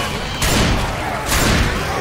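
Gunshots fired at a zombie in Left 4 Dead 2: two sharp, loud bursts of fire about a second apart, close and punchy against steady game noise.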